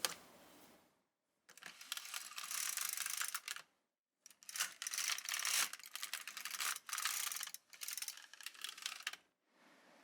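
A plastic LK150 knitting machine carriage sliding across the needle bed in several long passes, a dense clattering rattle that starts and stops with brief silent pauses between strokes, close and fairly loud.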